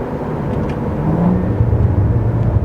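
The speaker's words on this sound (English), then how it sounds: "hear that burple from the exhaust when you do the downshifts" A BMW M4 engine rumbles loudly from inside the cabin, its low exhaust note burbling and fluctuating as the revs drop on downshifts.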